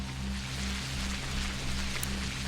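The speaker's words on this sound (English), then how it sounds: "The rain feels like it's picked up a little bit." Steady rain in the Pathologic Classic HD video game, a dense continuous hiss of drops on surfaces over a low droning background, constant and fairly loud with no voices.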